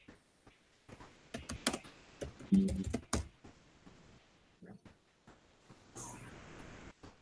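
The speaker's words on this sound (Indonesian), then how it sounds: "Ini masih mengetik." Someone types on a computer keyboard during an online school facilitation session, quiet irregular bursts of close key clicks with short pauses, alone without talking.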